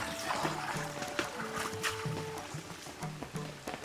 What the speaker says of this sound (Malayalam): ഈ വെള്ളം ഇതങ്ങനെ തുറന്നിട്ട് കഴിഞ്ഞിട്ടുണ്ടെങ്കിൽ പെട്ടെന്നാണ്ട് പോവും